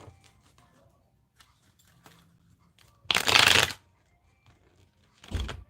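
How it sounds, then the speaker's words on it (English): Tarot cards being shuffled, two short bursts of close, crisp riffling separated by near silence, the first longer than the second. "am I going to be able to shuffle my cards?"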